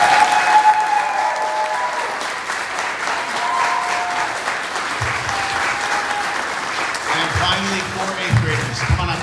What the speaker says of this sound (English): Let's give our authors a round of applause.